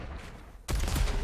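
Rocket launcher fire in an arena shooter duel, a sudden loud blast erupting after a quiet stretch and rolling into a sustained, dense burst of explosions close by.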